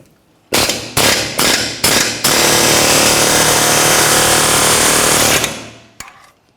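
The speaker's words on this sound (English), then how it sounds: "you have access to an air hammer, go ahead and use that" An air hammer working on a Ford Explorer Sport Trac lower ball joint, loud close rattling bursts: four short blasts followed by a sustained three-second run, then a brief final tap, no talk.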